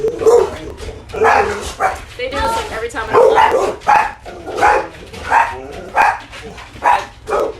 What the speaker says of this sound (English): So what are you barking about?